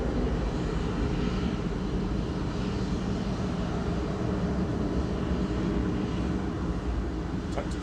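A British Airways plane taking off at Manchester Airport, with a loud, steady, broad engine roar that holds throughout without letting up.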